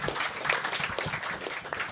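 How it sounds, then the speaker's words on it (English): A short burst of applause from a live podcast audience, fairly loud and uneven, with people talking indistinctly underneath. "Well, applaud, goddammit."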